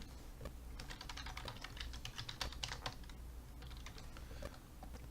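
Typing a user name on a computer keyboard: quick, irregular clicking keystrokes in close, quiet bursts with short pauses between runs.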